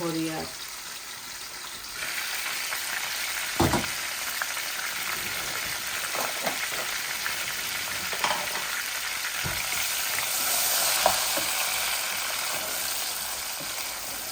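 Three pieces of pangas fish frying in oil in a home kitchen, a steady loud sizzle throughout, broken by a few clinks and stirring sounds, with a voice speaking over it at times.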